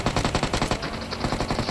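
Rapid automatic gunfire in the BGMI battle royale game, a loud steady burst of evenly spaced shots running without pause through the whole moment, with no voices over it.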